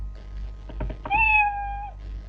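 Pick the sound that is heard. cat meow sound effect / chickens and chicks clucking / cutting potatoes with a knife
cat meow sound effect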